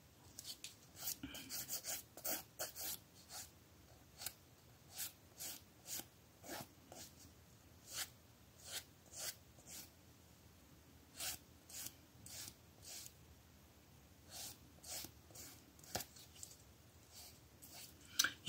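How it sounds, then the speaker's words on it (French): Fingernails being filed with a nail file: a steady series of short, close rasping strokes in quick rhythmic bursts, with brief pauses between groups of strokes, alone without talk. "Je vais limer mes ongles et je vous reviens."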